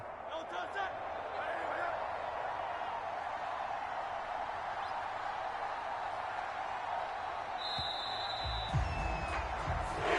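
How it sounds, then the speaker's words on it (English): A home crowd in the Madden 25 video game applauds and murmurs as a steady background roar during an NFC Championship simulation between the Commanders and Eagles, under a commentator's ongoing voice. "And the home crowd applauding."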